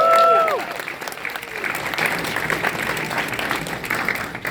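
An audience at a graduation ceremony in Los Angeles applauds, a dense and steady wash of many hands clapping that carries on for several seconds. A brief tonal sound at the very start sits over the clapping.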